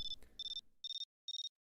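Debug beeping from the cheese maze video game: three clear, evenly spaced bursts of rapid electronic beeps, each a quick run of four short tones, following a brief noisy start and then stopping into silence.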